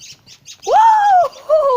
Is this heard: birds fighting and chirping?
yes